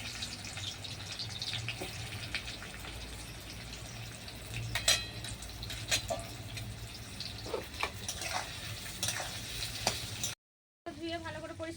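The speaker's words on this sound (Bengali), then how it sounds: "এবার পেঁয়াজের বেরেস্তাগুলো ভেজে নেবো।" Sliced onions fry in oil over a clay stove for chicken biryani, giving a steady soft sizzling hiss with scattered pops and crackles throughout, fairly quiet and continuous.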